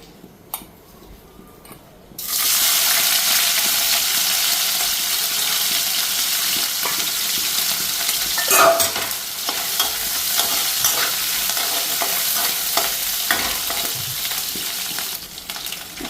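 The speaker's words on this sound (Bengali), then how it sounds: "তো এইদিকে তেল গরম হয়ে গেছে, শুটকিটা দিয়ে দিই।" Dried fish (shutki) drops into hot oil after two quiet seconds, and a loud bright sizzle erupts and carries on steadily with occasional stirring clatter, close by and without voices.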